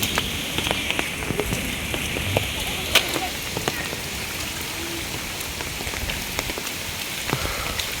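Steady rain pours down during a Kalbaishakhi nor'wester storm, a dense broadband hiss of drops on surfaces with scattered sharper splats and brief knocks throughout, fairly close and continuous.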